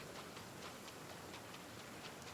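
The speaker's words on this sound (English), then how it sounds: "Rain! I hate rain." Rain falling in the video game Genshin Impact, a brief, steady, dense patter of drops with faint ticking, heard alone.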